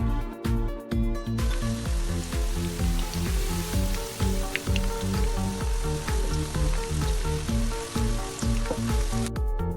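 Chicken balls frying in hot oil in a pan, a loud, dense sizzle with crackling pops throughout, heard close and alone over a backing of rhythmic music.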